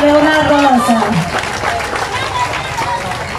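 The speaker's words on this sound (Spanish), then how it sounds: "Fuerte los aplausos," A crowd at a political rally breaks into applause, a dense clatter of clapping with voices and a speaker's amplified voice at the start, continuing steadily and fading slightly.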